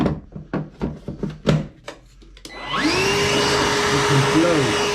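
A Milwaukee M18 wet/dry vacuum runs in blow mode. A few sharp clicks and knocks of the hose locking in come first, then the motor whirs up into a loud, steady blowing roar close by.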